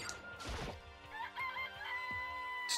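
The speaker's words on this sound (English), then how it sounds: "It's a chicken. It's really alive" A chicken in the video game Danganronpa crows and clucks, a loud burst near the start followed by wavering, strained calls over a steady in-game background.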